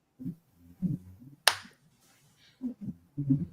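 A single sharp hand clap rings out once during a counting practice round of a game, set between stretches of low voices before and after.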